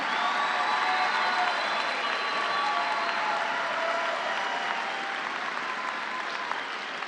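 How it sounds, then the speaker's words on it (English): A large commencement audience applauds the 2022 master's degree graduates, with dense, steady clapping and faint cheering filling the hall at an even, sustained level throughout. "Let's have a round of applause for our 2022 master's degree graduates."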